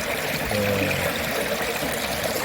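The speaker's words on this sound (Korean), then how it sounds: "물소리가 너무 좋아서 잘 안 들리는 것 같아요" A mountain stream flows through the valley at Seungseongyo Bridge near Seonamsa Temple in Suncheon, giving a steady, close rushing and gurgling of water with no voices.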